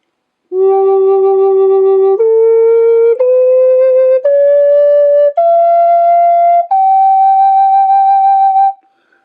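A breathy wooden Native American flute climbs a scale one sustained note at a time, six or seven clear steps rising in pitch, played alone and close.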